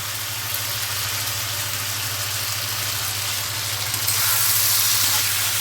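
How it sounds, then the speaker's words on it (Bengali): Masala of tomato and Kashmiri chili powder frying in a pan for a potato and Bombay duck curry, a steady close broadband sizzle that grows a little louder near the end, with a low hum underneath and no talking. "ভালো করে কষে নিচ্ছি মশলাটা"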